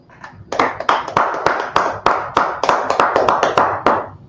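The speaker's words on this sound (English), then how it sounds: "Let's clap it up." A group claps in a loose, uneven burst of sharp hand claps after a few scattered opening claps, close and loud, at a church class gathering in Harlem, fading at the end.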